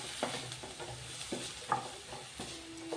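Onions being stirred and sautéed in a pan for egg masala, with soft repeated scraping strokes over a light, steady sizzle, close and fairly quiet, no talking.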